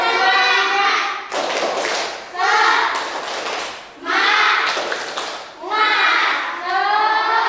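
Primary school pupils in a fifth-grade class perform a rhythmic clapping chant with teacher-led cheering, shouting words in unison between bursts of claps. Loud, close, and repeated in several patterned rounds.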